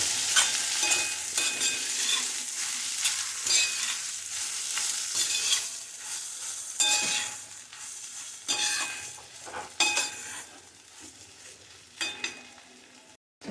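Food frying in a pan is stirred and mixed, a steady close sizzle with scraping spoon strokes running throughout, no talking.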